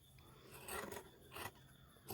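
Scissors cutting fabric for a garment neckline, with a few short rasping snips in quick succession, close and fairly quiet, with no talking.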